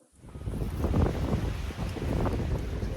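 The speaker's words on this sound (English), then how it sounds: "It's a windy day at the sanctuary today" Gusty wind at an animal sanctuary buffets the microphone with a low, rumbling roar that rises and falls, with no voices.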